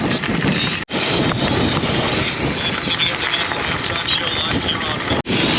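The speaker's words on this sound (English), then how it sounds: "It's getting windy out here." Strong wind buffets the microphone in a continuous loud roar during a bike ride, with two brief dropouts.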